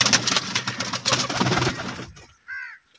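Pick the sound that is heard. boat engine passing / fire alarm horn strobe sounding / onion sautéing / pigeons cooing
pigeons cooing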